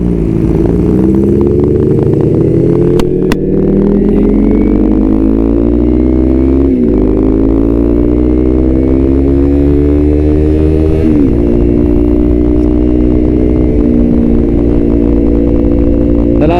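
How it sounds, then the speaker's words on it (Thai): A 2019 Yamaha R3 motorcycle engine with an aftermarket exhaust, loud and close, revving in rising pulls with brief dips between them and a steady raspy drone, with no talk over it. "เดี๋ยวเราจะได้มาฟังเสียงเจ้าอาสามกัน"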